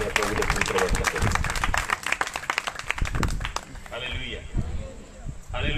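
A church congregation bursts into loud, sustained clapping in welcome, dense applause filling the space with a few brief lulls and a voice carrying under it.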